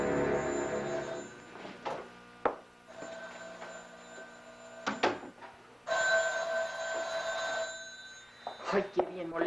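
Old-style telephone bell ringing in bursts in a religious-goods shop in San Juan del Río, loud and insistent, with brief pauses between rings and some speech around it.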